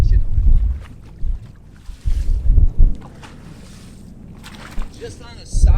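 Wind gusting across a lake around a bass fishing boat, heavy low rumbling buffets on the microphone that come and go in bursts, with brief voices in between.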